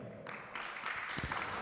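Audience applause at a Brazilian panel event on environmental regulation and sustainable investment, a steady wash of clapping that swells after a half second and holds at moderate, somewhat distant level.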